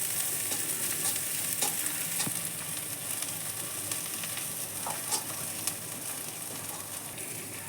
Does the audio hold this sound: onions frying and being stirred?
yes